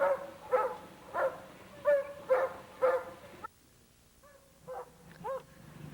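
A dog barks five times in a steady rhythm during a water search training session, loud and close, then falls quiet before giving a few softer, higher yips.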